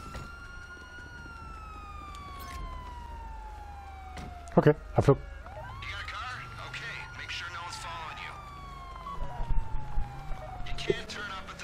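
Police sirens wail in GTA V Online, several long sweeping tones rising and falling from mid-distance and layered over each other, while voices talk over them and short sharp bursts cut in.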